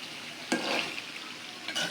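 Beef in oil and spices being stirred and braised in a pot, a faint soft sizzle with two short scraping stirs of a utensil against the pot; no voices.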